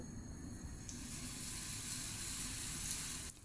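Cheese slices sizzling in a little oil in a non-stick pan where garlic was just browned, a steady close hiss and crackle running without pause.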